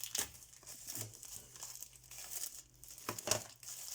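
Packaging for a Blue Navy dye ink pad being opened, with several quiet bursts of plastic crinkling and tearing, close by and alone.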